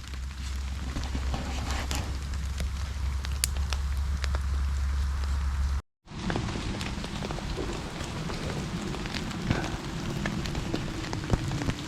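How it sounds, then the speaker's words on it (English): Steady rain drums on a tarp shelter at a bushcraft campsite, a dense continuous patter with scattered louder drops, briefly cutting out midway before resuming just as heavy. "The rain is coming down harder, but that's fine."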